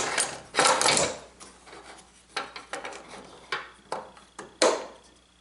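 A woodworking clamp is tightened onto a caul, beginning with a brief rubbing scrape and followed by a series of short, sharp ratcheting clicks spaced unevenly, fairly faint and close.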